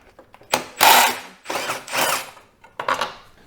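A hand ratchet works 10 mm bolts off the lower bumper brackets on a crashed RAM TRX, sounding as several bursts of rapid clicking, each about half a second long, close by with short pauses between them.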